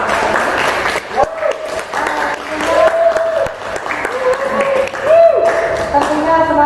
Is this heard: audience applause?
yes